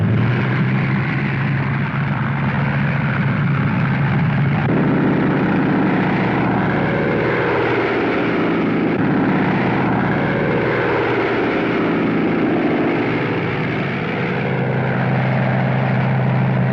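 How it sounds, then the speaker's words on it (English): World War II propeller bombers getting underway for takeoff, a loud continuous droning roar of piston engines with a shifting pitch as they move, and no voices. "the tower gave them the go-ahead and the bombers got underway"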